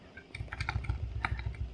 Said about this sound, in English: if we use our keyboard